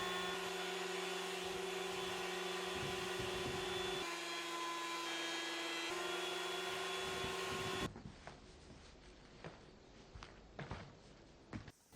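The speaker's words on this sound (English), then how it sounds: "every piece had to have a quick trip through the thicknesser" A thicknesser planes dimension lumber still bearing milling marks, a loud steady whining drone with a brief dip in pitch midway, then it cuts off and leaves quiet workshop clatter and a few knocks.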